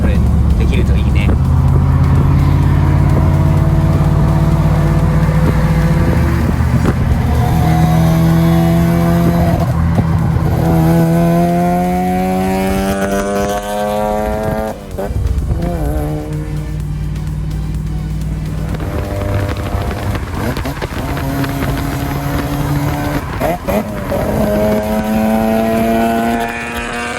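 A Toyota AE86 and a Mazda RX-7 FC run side by side in Texas, filling the air with loud, steady engine roar and rising revs. Their tones overlap in layered, rising pitches, close by and continuous throughout.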